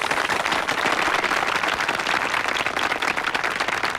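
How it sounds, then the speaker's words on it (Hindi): Audience applause at a school or college fun event, a dense steady wash of clapping that holds at full strength from start to finish with no voices above it. "तालियां!"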